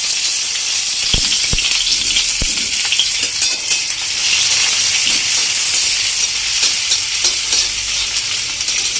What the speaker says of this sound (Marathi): कांदा भाजत आहे